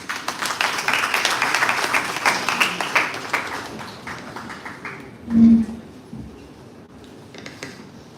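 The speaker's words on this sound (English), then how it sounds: "Please give a round of applause" People at a startup and entrepreneurship workshop on a university campus give a round of applause that is fairly full at first, then thins out and fades, with a brief tonal blip near the end and a quieter room afterward.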